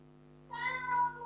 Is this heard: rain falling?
no